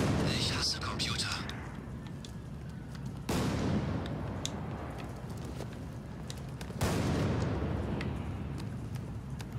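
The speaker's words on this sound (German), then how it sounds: "Woher kommen die Schüsse?" Gunfire in the Batman: Arkham Knight video game: two loud booming shots several seconds apart, each followed by a rumbling decay, with scattered sharper cracks and faint voices in the background.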